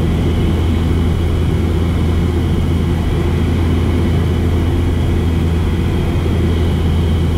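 Pipistrel Velis Electro electric plane in level flight at about 9 kilowatts, heard from the cockpit as a loud, constant broadband drone with a low, steady hum beneath it.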